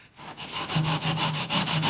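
Hand tool rasping and sawing back and forth across foam for an aircraft wing fairing, a steady run of about ten quick, close scraping strokes with no pauses.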